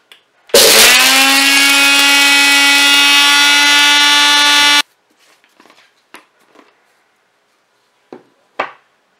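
An electric grinder whirs loudly and steadily for about four seconds grinding a small amount of coriander seeds and pepper, then stops abruptly, leaving faint clicks and taps.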